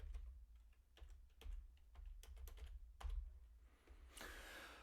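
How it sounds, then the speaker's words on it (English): A computer keyboard is tapped in quick, irregular bursts of clicks at close range, quiet and alone, as someone types code for Unity. "What on earth am I typing?"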